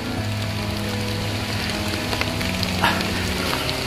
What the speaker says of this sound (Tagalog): So umulan, nasa gubat po kami oh.